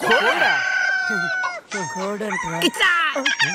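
A rooster crows loudly with a drawn-out, harmonic cock-a-doodle-doo, followed by several shorter squawking calls and clucks close by, with no talking over it.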